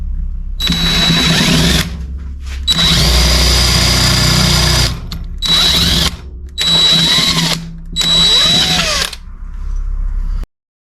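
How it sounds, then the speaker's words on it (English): A power drill boring into a broken bolt on a Ford Fiesta ST engine, loud close whirring in several bursts of about one to two seconds each, separated by short pauses as the trigger is released. "Drilled a tiny bit into the broken bolt."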